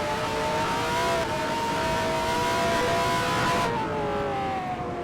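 Engines whine steadily at high pitch, several 1974 USAC race cars in a video game droning together with slight pitch shifts as they ease through a bend at Phoenix, continuous and fairly loud.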